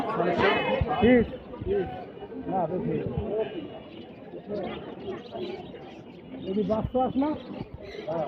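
Pigeons and other birds coo and chirp at a crowded Friday pet and bird market in Mirpur, a busy layer of calls mixed under close conversation between people.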